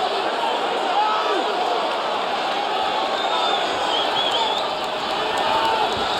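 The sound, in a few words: boxing arena crowd ovation at Barclays Center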